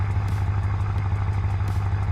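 A 4.0 V8 M Performance car engine in a video game idles with a steady, low, droning rumble that holds evenly throughout, heard alone with no talking.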